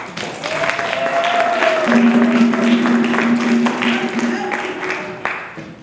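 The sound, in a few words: audience applause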